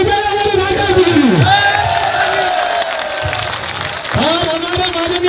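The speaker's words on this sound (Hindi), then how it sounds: "अरे जोरदार ताली हो जाए हमारे राजा जी" Loud crowd applause and cheering at a Sanatan Dharma Mahasabha public rally in Sanganer, Jaipur, steady and dense throughout, with whoops, shouts and a voice carrying over the crowd noise.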